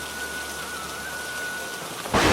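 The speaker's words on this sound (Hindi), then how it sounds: "इतनी भारी बारिश हो रही है।" Heavy rain pouring down steadily and loud, with a rumble of thunder rising at the very end.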